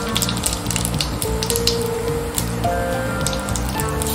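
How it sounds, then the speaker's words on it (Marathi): One teaspoon of cumin seeds sizzles in hot oil in a pan for a Maharashtrian kobi vadi snack, a loud steady crackling hiss that goes on throughout with no voices. "तेल गरम झालं की आता त्यात मी 1 चमचे जिरं,"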